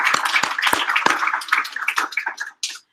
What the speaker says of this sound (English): let's give Jack a big round of applause